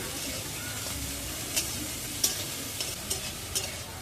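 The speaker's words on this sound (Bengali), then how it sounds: "এবারে দিয়ে দিচ্ছি সজনে ফুল সজনে ফুলটা দিয়েও একটুকু নেড়ে চেড়ে ভেজে নিচ্ছি" Drumstick flowers are stirred and fried in a pan, giving a steady low sizzle with a handful of light scraping stirs, close by and without speech.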